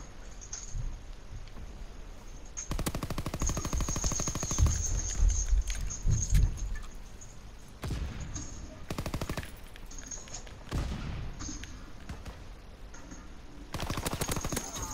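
Automatic weapon fire in Call of Duty WWII, with long rapid bursts and shorter volleys separated by brief gaps, loud and dense, while a player talks intermittently.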